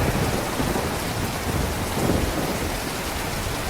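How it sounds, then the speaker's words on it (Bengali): Sudden heavy rainstorm at midnight, a dense steady roar of rain pouring down in the dark with continuous broadband hiss, close and loud throughout, no voices. "পুরো শেষ অবস্থা হঠাৎ করে এরকম বৃষ্টি শুরু হয়ে গেছে"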